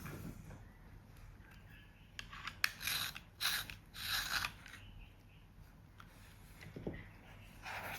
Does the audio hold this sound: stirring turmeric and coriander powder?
no